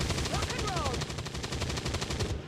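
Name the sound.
gunfire from the video game XCOM 2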